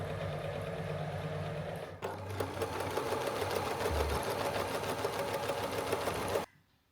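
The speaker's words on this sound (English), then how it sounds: "now I'm putting the two pieces of the pants together, sewing them" A sewing machine stitches pyjama pant seams in a steady, rapid mechanical clatter, with a brief pause near the start before continuous stitching resumes and then stops abruptly.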